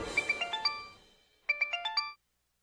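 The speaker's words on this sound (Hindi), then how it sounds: "संगम का फोन" A phone ringtone plays a quick rising melody of bright electronic notes, pauses briefly, then repeats once before cutting off.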